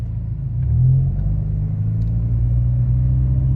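A truck rolls into a church parking lot, its engine giving a steady low rumble close by, swelling slightly early on and then holding an even drone throughout.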